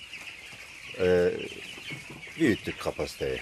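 Broiler chickens inside a poultry house, a dense background of clucking with a couple of louder squawks standing out, while someone talks over them.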